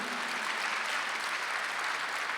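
A church congregation claps during a Sunday worship service, a brief, even wash of applause at moderate level with no voices.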